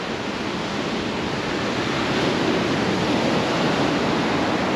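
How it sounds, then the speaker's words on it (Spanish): Rough, stormy sea surf breaking continuously on a beach during a surfcasting fishing trip, a loud, steady roar of crashing waves with no letup and no voices. "Pues lo dicho, nos encontramos el mar fuerte."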